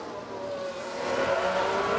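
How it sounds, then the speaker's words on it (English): Engine of a McLaren race car in an F1 Manager 22 replay as it locks up and spins, a revving, whining tone with a rising pitch sweep, loud and near, heard alone. "that's where they spin out"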